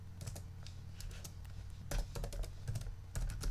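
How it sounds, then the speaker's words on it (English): Rapid, quiet clicking of fingers typing on a computer keyboard, irregular keystrokes with a few louder taps, close by and without speech. "by using your keyboard."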